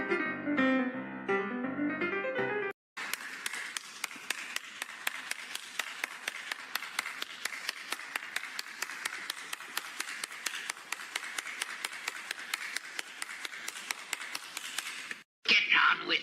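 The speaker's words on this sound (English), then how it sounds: "Everybody give him a round of applause." A voice speaks briefly before the applause for guest Erik Hodson on a live talk show. The crowd then breaks into sustained, crackling clapping that continues evenly for about twelve seconds and stops abruptly, followed by a short burst of sound at the end.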